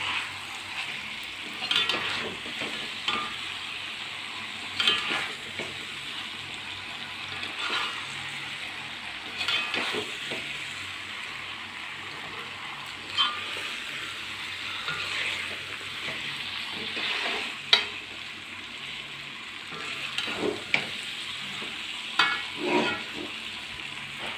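Chicken thoran cooks in a pan over a high flame with a steady, quiet sizzle and frying hiss, broken by occasional stirring scrapes and clicks. No one speaks.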